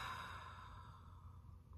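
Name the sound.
slow full exhale during a group breathing exercise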